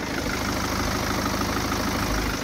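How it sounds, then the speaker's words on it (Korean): A BMW 5 Series diesel engine idles with the hood open, giving a steady, continuous mechanical rumble and low clatter close to the microphone with no voices. "자 이렇게 엔진 소음을 담기 위해 본네트를 한번 열어봤는데요 영상으로 엔진 소음 한번 담아보도록 하겠습니다"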